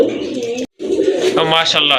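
A pair of khaki pigeons coos close by, the calls brief and mixed with someone talking loudly over them, with a short gap of silence partway through.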